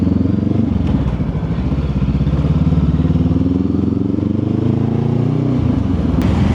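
A motorcycle fitted with a Carpuride W702 display rides off, its engine note steady and droning close by with a low rumble and some road clatter throughout, no talking.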